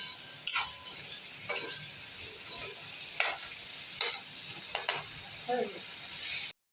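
Peas and chillies fry in a pan with a steady, close sizzle, broken by repeated scraping stirs and clinks of the spatula against the metal. No one speaks.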